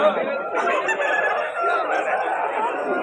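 A rooster crowing at a rooster market in Vijayawada, one long loud close crow filling the clip, with faint market chatter underneath.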